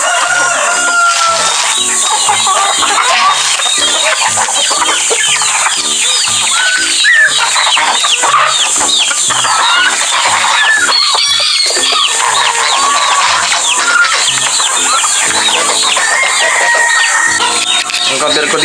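Rhode Island Red chickens being fed homemade feed cluck steadily from up close, a dense, continuous flock chatter with occasional crowing mixed in.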